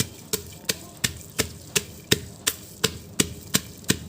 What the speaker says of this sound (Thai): มาโขกพริกกันแล้วครับ